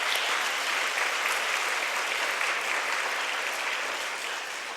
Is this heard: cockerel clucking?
no